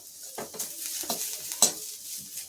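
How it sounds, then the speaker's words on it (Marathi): Onion roasting in a pan for Pandharpur-style bazaar amti, a soft sizzle broken by spatula stirs and scrapes at an uneven pace, close and moderately quiet, no talking. "आपण एक कांदा भाजून घ्यायचा आहे कांदा थोडा गुलाबी करून घेऊया"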